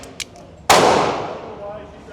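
A single loud gunshot at a shooting range from an M&P 2.0 9mm pistol, a sharp crack followed by a long ringing decay, with a faint earlier pop in the background.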